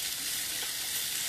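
Potatoes and carrots frying in a big skillet give off a loud, steady, close sizzle with a constant bright hiss and no pauses.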